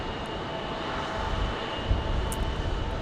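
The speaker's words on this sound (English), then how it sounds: "the blowback from the Max 8" Jet blast from a Southwest Boeing 737 Max 8 at Phoenix Sky Harbor Airport, a steady broadband roar of engine exhaust and rushing air that swells slightly around the middle, loud and continuous with no talk.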